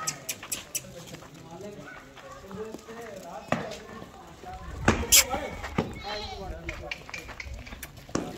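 Sojat goat kids bleating on a goat farm in Bhilwara, Rajasthan, scattered calls and animal noises at moderate distance, with someone talking over them throughout.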